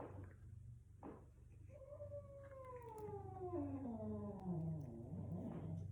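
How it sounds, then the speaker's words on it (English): A house cat lets out a long, drawn-out wail that slides slowly downward in pitch, fairly faint and indoors over a low steady background hum. "obviously one of the cats doesn't like exercising either"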